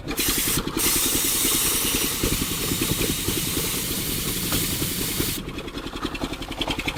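Engine of a DIY wood gas generator running below full speed, a loud steady chugging throb with hissing gas, close and continuous, the pulse loosening slightly toward the end.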